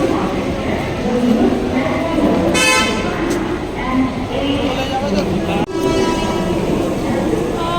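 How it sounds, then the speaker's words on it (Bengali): The Police Express train rumbles steadily at a busy Kolkata platform, with a short horn blast partway through and people talking over it the whole time. "আমাদের ট্রেন দিয়ে দিয়েছে পুলিশ এক্সপ্রেস।"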